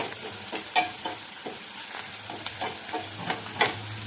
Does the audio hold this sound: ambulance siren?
no